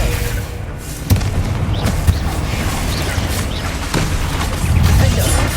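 A Confringo spell from Hogwarts Legacy lands as heavy booms amid constant battle din, with sharp blasts at about one-second intervals and a dense rumble swelling near the end.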